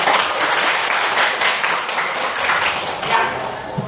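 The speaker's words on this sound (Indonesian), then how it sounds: "Kita berikan tepuk tangan dulu dong" A group claps together after a presentation in a dense, steady burst of applause that continues for several seconds with no pause.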